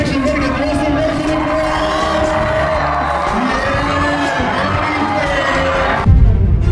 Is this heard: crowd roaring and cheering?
yes